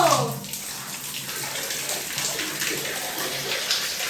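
Tap water from a household tank pours steadily into a bathroom bucket or tub, a continuous close hiss and splash throughout with no clear speech.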